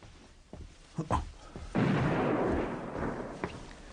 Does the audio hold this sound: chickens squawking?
no